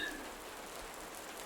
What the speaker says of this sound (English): Only rain now, heavy, persistent,